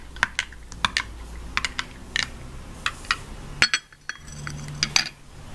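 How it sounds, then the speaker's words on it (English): A spoon clinks lightly and repeatedly against a cup while stirring sugar into Nespresso coffee, with a run of small, close, irregular taps. "I'm going to stir"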